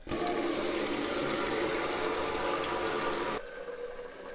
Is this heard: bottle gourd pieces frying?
no